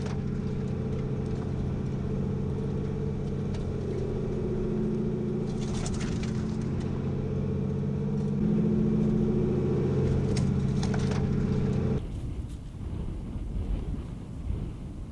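Vehicle driving along Dunns Track on the way to Welcome Spring, a steady low engine drone with wind buffeting the microphone throughout, cutting to a rougher, noisier rumble near the end; no talking.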